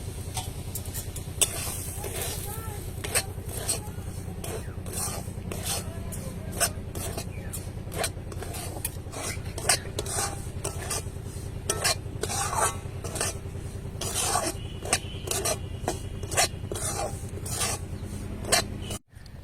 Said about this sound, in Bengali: আমি এর মধ্যে দিয়ে দিই অল্প ঘি এরপর দিয়ে দেবো সুজি দিয়ে এটাকে ভালো করে একটু ভেজে নেবো